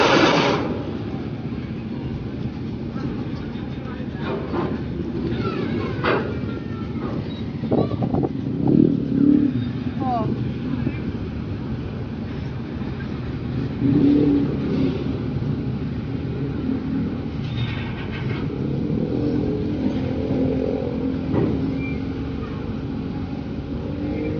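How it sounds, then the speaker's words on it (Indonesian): Cars drive onto a ferry at a Sunda Strait port, with a steady low engine rumble and passing vehicle noise that rises and falls over a constant background hum. "mobil-mobilnya full berangkat"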